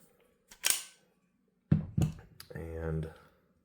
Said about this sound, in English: let's go ahead and check for clear. Clear is good. Go ahead and take down the gun.